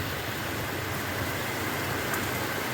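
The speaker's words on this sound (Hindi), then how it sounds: "बहुत तेज़ चालू हो गया है हवा और पानी," Strong wind drives heavy rain outdoors, making a constant, loud, broad rushing roar that stays even throughout with no voices.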